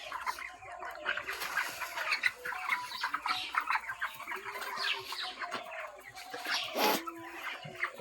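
Chickens in a poultry farm shed housing about 1500 birds cluck and squawk continuously, a dense overlapping chorus of calls near and far with occasional louder squawks standing out.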